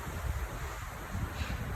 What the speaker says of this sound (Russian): И опять начинается ветер ночью.